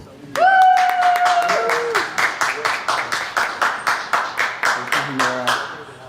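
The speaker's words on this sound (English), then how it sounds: "So give a warm round of applause to Walied." An audience bursts into steady, rhythmic applause, a crowd clapping in quick regular beats that fades toward the end, with a brief tonal sound at the start.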